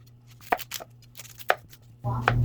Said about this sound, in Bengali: আমি এখানে পেঁয়াজ টমেটোগুলোকে কেটে নিচ্ছি।